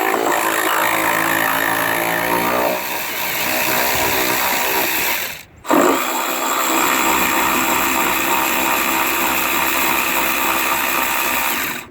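A power tool removes bolts in the engine bay of a 2008 Ford Edge during a cooling fan replacement. It makes a loud, steady whirring drone that stops briefly midway, then runs on, with no talking.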